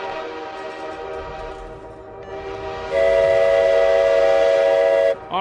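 A train horn alert for a completed hype train on a World of Warships livestream, starting with rumbling rail noise, then a loud sustained multi-tone horn blast for about two seconds, then a sudden cut.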